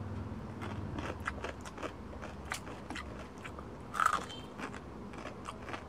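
Crunchy tagaktak rice snack, a fried noodle-like treat, bitten and chewed in a steady series of small crisp crunches up close, with one louder bite near the end.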